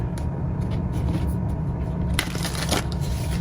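Tarot cards are shuffled close by with a dry papery riffle, followed by a couple of brisk slaps as cards are laid down, with no speech.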